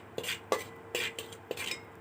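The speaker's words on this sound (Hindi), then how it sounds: "फिर चम्मच से हिलाते हुए उसे भूरा होने तक" A spoon stirs cumin seeds in hot oil in a cooking pot, with about five quick scraping strokes in an even rhythm over a faint sizzle, close and fairly quiet.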